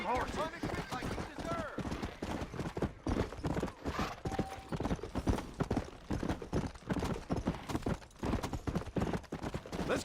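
Horses in the video game Red Dead Redemption galloping with dense, rapid hoof clatter, close and loud, under shouting voices and bursts of gunfire.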